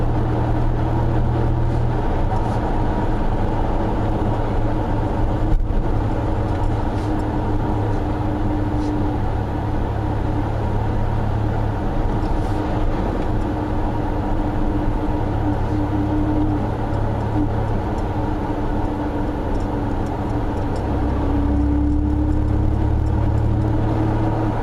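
A 1991 Dodge Dakota pickup cruising at about 30 mph, heard from inside the cab as a steady low engine drone and road rumble, continuous throughout with no talking.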